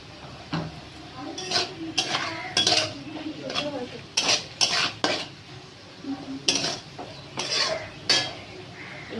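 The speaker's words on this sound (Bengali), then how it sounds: "একটু পরে আমি লবণ দেব আর ক্যাপসিকামটা মেশাবো" Capsicum being stirred into mixed fried rice with carrot in a pan on the stove, heard as repeated clinking, scraping strokes of a utensil against the pan in uneven bursts, close and fairly loud, with faint sizzling underneath.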